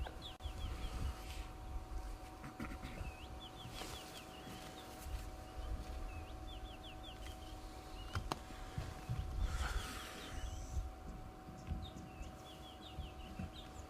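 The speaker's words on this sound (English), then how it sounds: "I want to see if I can see this bird that's calling," Repeated short chirping bird calls at a moderate distance on a morning safari drive, recurring every second or two over a steady outdoor background with low rumbling noise.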